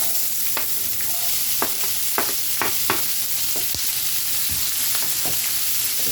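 Onions drop into a hot pot for a lentil beef pot roast and sizzle steadily, while a spoon clacks and scrapes against the pot in scattered knocks and no one talks.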